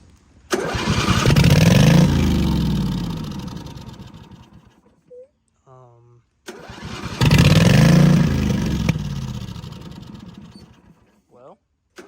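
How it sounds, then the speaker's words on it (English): An engine on a turbo setup cranked twice, each attempt a loud grinding starter whir that sputters and fades over a few seconds, close by, with brief speech and short clicks in the gaps between tries. "Let's fire her up and see if she leaks."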